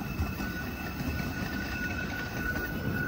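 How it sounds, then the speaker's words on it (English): A train in Dallas, Texas rolls steadily past with a constant rumble, its wheels squealing in sustained high, thin tones as it takes a curve, close and fairly loud throughout. "one of the train wheels from the train is a little bit squealing and loud because of that curve"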